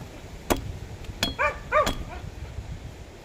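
A dog barks several times in short, sharp bursts with a couple of yelping cries in between, fairly close against a quiet, breezy background.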